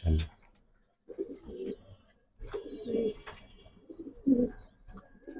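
Pigeons at a farm keeping high flyers, racers and fancy breeds give a few low, rolling coos in separate bursts with quiet gaps between them, heard close.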